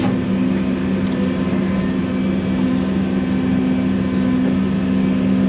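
A truck on a farm in a farming game runs with a steady, droning engine hum, loud and constant without any talk.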